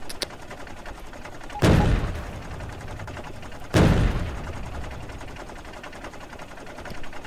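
Rapid gunfire from turrets firing explosive ammunition in the video game Factorio, a fast continuous rattle broken by two heavy booming blasts, all without speech.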